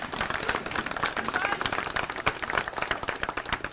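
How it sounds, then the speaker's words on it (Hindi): A crowd at an AAP event with auto drivers in Delhi claps loudly to welcome Arvind Kejriwal, producing dense, continuous applause that stays close and full for about four seconds. "जोरदार तालियों से स्वागत करेंगे"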